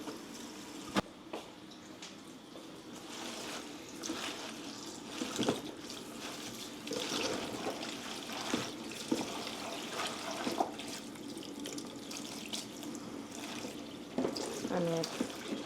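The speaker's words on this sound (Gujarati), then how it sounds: "એકદમ ઠંડુ પાણી નાખીએ છીએ" Cold tap water running to fill a container for washing fresh spinach leaves for palak paneer: a faint, continuous splashing flow with occasional knocks and splashes, fairly distant.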